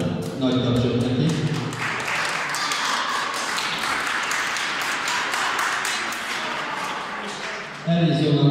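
Applause fills a school hall for the members of a rockabilly band, with brisk, sustained clapping between stretches of an amplified announcer's voice at the start and end.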